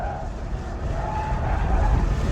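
A heavy Tesla Model S Plaid on a race track, its tires losing grip and scrubbing in a steady, rising skid with engine and road roar beneath, loud and continuous.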